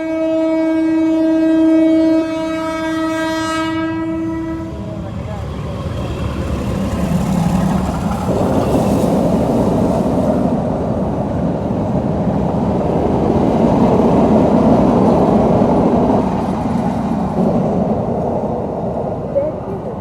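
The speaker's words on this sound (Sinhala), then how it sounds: "ඒක තමයි අපේ කෝච්චිය 8:45 විතර එන කෝච්චිය" A train sounds a long, loud horn, then passes close by with a heavy, sustained roar and wheel rumble that swells and holds until the end.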